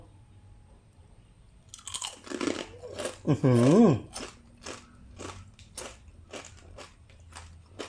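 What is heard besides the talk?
chewing crispy fried chicken skin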